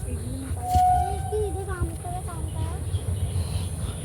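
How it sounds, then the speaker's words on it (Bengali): A train passing in the distance, a low steady rumble beneath voices and high, tonal sounds. "ট্রেন যাচ্ছে ট্রেন ট্রেন ট্রেন"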